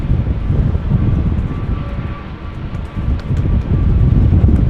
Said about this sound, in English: Here it is, Embraer 190 to Genoa, KLM flight 1645.